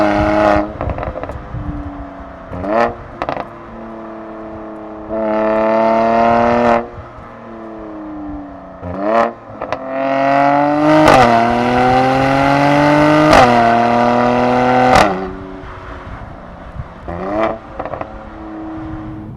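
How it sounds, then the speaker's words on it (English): A Mercedes-AMG C43 accelerates hard through the gears, its engine note climbing in loud, close bursts broken by sharp cracks and pops at each gear change. "in the gear changes themselves, you get these huge cracks"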